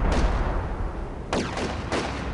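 Artillery fire in the World War II strategy game Company of Heroes, set at Stalingrad: a steady low rumble punctuated by several sharp blasts, with three distinct loud impacts arriving in quick succession.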